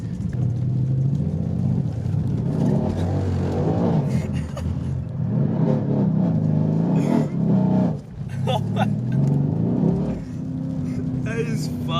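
A Subaru WRX revs and accelerates with a deep, throaty engine rumble heard from inside the car, pitch rising and falling through gear changes while people talk excitedly over it.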